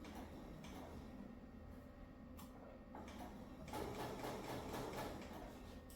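Sewing machine stitching slowly across a seam in a patchwork quilt block, a faint, steady low hum with soft ticking that grows slightly busier toward the end.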